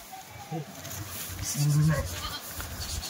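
A Kathewadi sheep gives a short bleat amid a livestock market, with people talking around it and other faint animal calls in the background.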